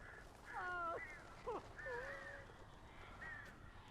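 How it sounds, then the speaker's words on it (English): Crows caw several times in the video game Alan Wake, a few harsh calls rising above a quiet background, with a game voice briefly present. "The birds are kind of a pain"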